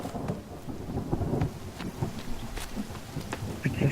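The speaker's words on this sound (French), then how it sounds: "il y a un éclair" Thunderstorm in the survival video game The Forest: a steady wash of rain with low rolling thunder rumbles and a few sharper cracks, loud and continuous throughout, with no talking.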